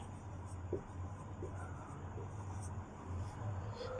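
Pen or chalk writing out four nines, a faint, close, scratchy stroke sound in short bursts over a low steady background hum.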